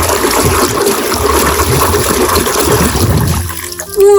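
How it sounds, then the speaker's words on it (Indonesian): Muddy toy guns rinsed in clean water, a steady splashing and trickling wash running throughout, with a brief louder gurgle near the end. "Ayo kita cuci mainan berlumpurnya."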